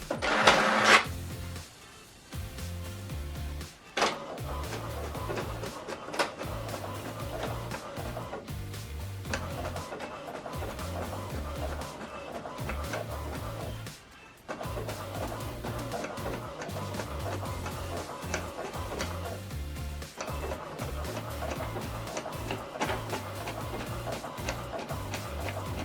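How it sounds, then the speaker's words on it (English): Printer running through a two-page document sent from a laptop, a steady mechanical whirring and clicking that continues for the whole stretch with brief dips, close and moderately loud with no talking. "Now this document is printing."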